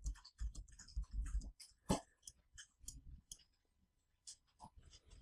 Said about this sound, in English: left click on this area, this one, then hold the shift key on your keyboard